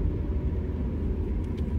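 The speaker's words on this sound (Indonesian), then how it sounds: "Ini banyak banget kendaraan-kendaraan besar ini," Heavy trailer trucks rumble through congested midnight traffic in Lamongan, a dense, steady low engine drone heard from inside a car, with no pauses or speech.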